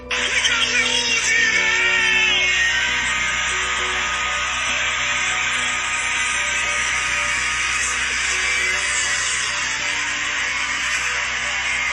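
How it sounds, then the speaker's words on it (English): A loud, sustained wash of many young voices screaming and cheering together, dense and continuous, with a steady electronic hum beneath. "These kids is cheering, smiling, happy, screaming, oh my God!"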